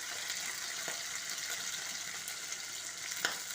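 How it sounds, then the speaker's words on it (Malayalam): Garlic and curry leaves fry in hot oil in a pan for homemade lemon pickle, a steady dense sizzle and crackle throughout with an occasional sharper pop, close and alone without speech. "ഇട്ട് വെളുത്തുള്ളി ചെറുതായിട്ടൊന്ന് നോക്കുമ്പോൾ കറിവേപ്പില ഇട്ട് കൊടുക്കാം"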